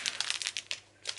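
Small coffee bags being handled, giving quick crinkling, crunching bursts of packaging at close range, several short rustles in a row with a brief pause before a final crinkle.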